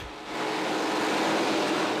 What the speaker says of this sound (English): revved their engines and let her rip.